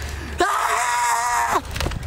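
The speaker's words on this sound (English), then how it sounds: "Scream out!" A person lets out a loud, sustained scream of about a second, rising sharply and breaking off, with noisy room sound and voice fragments around it.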